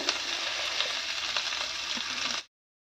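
Onions fry in a pan with a steady, dense crackling sizzle close up, unbroken for about two and a half seconds before cutting to silence.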